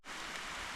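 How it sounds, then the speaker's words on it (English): Heavy rain pours steadily during a mountain ultra race, a dense, loud, unbroken hiss of drops hitting surfaces close by, with no voices. "the weather's pretty horrible, so hoping the rain eases off a little bit"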